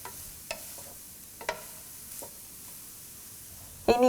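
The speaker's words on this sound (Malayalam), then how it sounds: "മിക്സ് ആഡ് ചെയ്ത് ശരിക്കും ഇളക്കി കൊടുക്കുക." Papaya thoran stirred in a pan: several separate soft scrapes and taps of a spoon over a faint background hiss, quiet and close, ending in a louder clatter.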